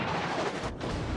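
Naval guns of the cruiser HMS Emerald fire in a World of Warships battle, a short booming salvo that swells and rumbles, loud and close, with no voices.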